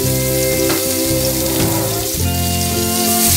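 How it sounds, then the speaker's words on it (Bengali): Tilapia fish frying in hot oil in a pan, a loud, steady crackling sizzle with bubbling that runs continuously throughout, close and without voices. "ফ্রাই প্যানটা গরম হয়ে আসলে পরিমাণ মতো তেল দিয়ে আমি মাছগুলোকে ভেজে"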